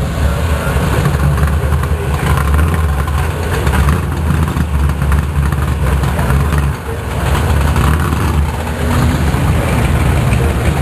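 A muscle car engine idles loudly and close in the pits at a car show, a steady deep rumble throughout with no break.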